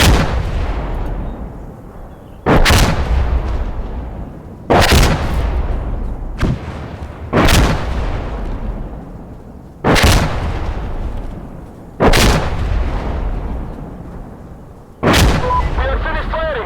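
Artillery fire in the shooter game Insurgency Sandstorm, seven loud, booming blasts spaced about two seconds apart, each with a long rumbling tail and heavy low-end weight.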